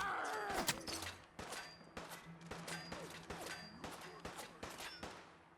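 Gunfire in the Fallout 4 game sounds as a string of sharp, separate shots spaced roughly half a second apart, moderately loud over quiet ambience with some ringing metallic tones.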